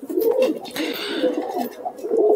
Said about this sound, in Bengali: অন্ধ্রা পায়রা দেখলাম আমরা